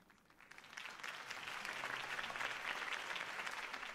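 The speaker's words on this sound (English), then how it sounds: "could have heard that applause" Crowd applause from the video game Batman: The Telltale Series, a dense steady clapping that swells over the first second and holds loud and even to the end, with no talk over it.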